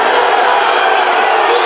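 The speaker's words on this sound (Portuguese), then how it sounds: "A torcida reclama" Loud, dense football crowd roaring continuously at a Copa Morena 2018 semifinal between Coxim and Inter Flórida, a steady wall of massed voices with no breaks.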